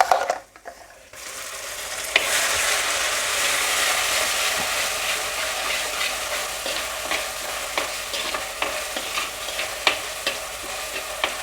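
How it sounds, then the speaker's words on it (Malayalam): Ground masala paste fries in coconut oil for a sardine curry, a loud steady sizzle with irregular scraping stirs of a spoon against the pan, after a brief clatter at the start. "ഇപ്പോൾ ഒട്ടും വെള്ളം ചേർക്കാണ്ട് വേണം നമുക്കിതൊന്ന് ഈ വെളിച്ചെണ്ണയിൽ കിടന്ന് ഇതൊന്ന് മൊരിയിച്ചെടുക്കണം"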